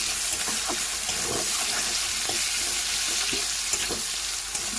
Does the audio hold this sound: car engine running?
no